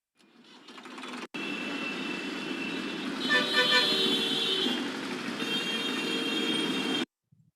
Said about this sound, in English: we hear a lot of traffic vehicle sounds.